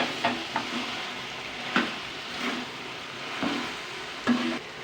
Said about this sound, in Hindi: और अब हम इसको 5 मिनट के लिए भूनेंगे।